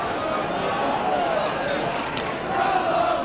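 A vast football crowd at Selhurst Park during a 1970/71 Crystal Palace versus Chelsea match gives off a dense, steady roar of many voices, with chanting swelling near the end.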